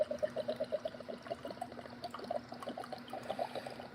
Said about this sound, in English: One second, I need to fill up my water because I need water.